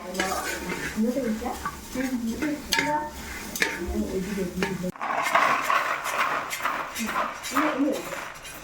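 Wheat grains are stirred and dry-roasted in a pan for Karkidakam herbal medicine, with a close scraping, clattering stir throughout. A person talks over the first half.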